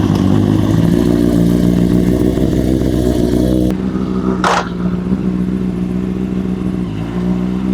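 A 2007 Honda CBR600RR sport bike engine running loud and close, a steady high-revving drone that drops to a lower idle partway through, with a brief sharp hiss or clatter over it and no talk.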